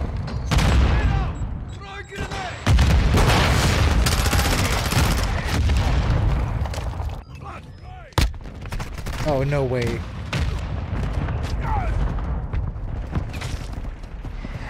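Explosions rain down from the sky in Call of Duty Modern Warfare II, with dense bursts of gunfire and booming blasts filling most of the stretch, loud and close, while a player speaks briefly over the chaos.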